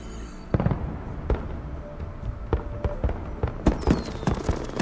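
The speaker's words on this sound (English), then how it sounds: "Hey, they got fireworks to work." Fireworks in Horizon Forbidden West, a string of sharp crackling pops and bangs at irregular intervals over a steady background hiss, fairly loud and close with occasional whistling streaks.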